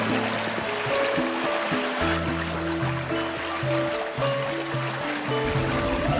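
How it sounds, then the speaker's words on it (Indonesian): River water flows steadily beneath a layer of music, a continuous rushing wash that holds at an even level throughout. "terbawa arus sungai yang mengalir menjauh dari kerajaan Daha"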